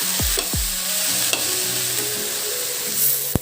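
Chopped tomatoes and okra frying in a pan, a steady close sizzle with a few scraping stirs and utensil knocks at the start, no voices.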